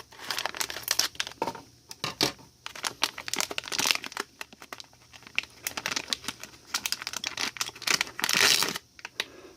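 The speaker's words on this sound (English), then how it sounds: "It's going to require a little tearing." Sealed plastic packaging on a Banana Pro kit being torn and pulled open, a close run of irregular crinkling and ripping bursts with brief pauses, the loudest tear near the end.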